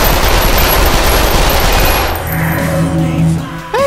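Rapid gunfire in the Lethal VR shooting game, loud dense bursts for about two seconds, then fading into quieter game sounds and a rising electronic tone at the end.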